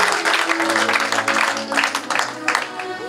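A church congregation applauds during a French-language worship service. The clapping is rhythmic and sustained, with voices singing or calling out over it throughout.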